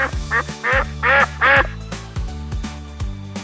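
A cartoonish duck quacks five times in quick succession over a steady children's song backing, with bouncy bass notes continuing after the quacks stop.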